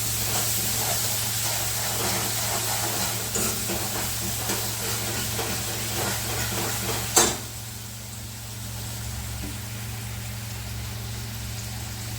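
Curry leaves crackle and sizzle in hot oil in a pan, a dense steady spitting hiss over a low hum, with one sharp pop before the frying quiets a little.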